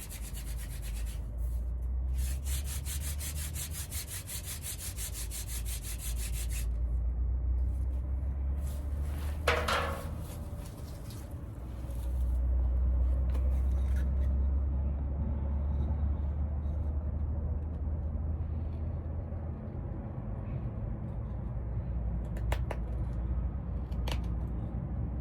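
Long stretches of rapid, rhythmic rubbing and grinding of a hand drill spindle on a wooden hearth board, close and continuous, broken by brief pauses and a few sharp scraping squeaks.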